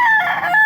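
A single loud rooster crow, close and brief, a harsh strained call with a clear tonal ring.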